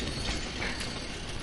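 A train rolling along in the video game Crysis 3, a dense, steady rumble of rail noise with a faint clatter, loud and continuous throughout.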